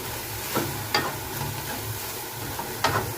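Chinese green vegetables with oyster sauce are stirred in a sizzling pan, a spatula scraping in a few short strokes over a soft, steady frying hiss.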